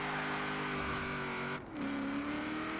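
A supercharged Ford Crown Victoria in Forza Horizon 4 roars steadily under load, its engine note dipping briefly at a gear change before climbing again, loud and close with no voices.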